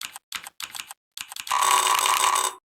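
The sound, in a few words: mechanical keyboard typing sounds from Mechvibes software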